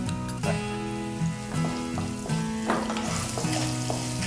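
A small amount of onion sautés in a hot pan, a continuous close sizzle and crackle with periodic stirring scrapes at a fairly regular rhythm and no voices.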